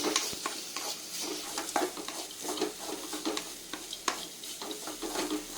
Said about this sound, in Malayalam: ഞാനിപ്പോൾ ഒരു അരമുറി തേങ്ങയാണ് എടുക്കുന്നത്. നന്നായിട്ട് വാട്ടിയെടുക്കും.